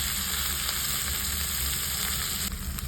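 Steady, close sizzling of greens sautéing in a hot pan, continuous throughout with no talking.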